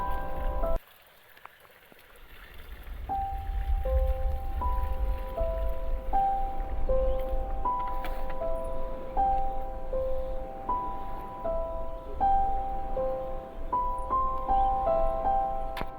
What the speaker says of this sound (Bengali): এই যে দেখছো মেশিনটা স্টার্ট করানো হয়েই গেছে, আর কেমন জল যাচ্ছে দেখো